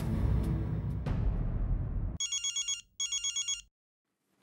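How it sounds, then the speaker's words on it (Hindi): After a loud, noisy opening, a telephone rings in two distinct electronic bursts of rapid trilling, then falls silent. "फोन, बबीता जी का फोन।"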